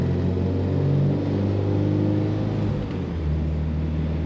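A 1974 Volvo 1800 ES sport wagon with a four-speed manual idles smoothly from cold, a steady close-up engine hum and low rumble that holds even throughout with a brief dip near the end.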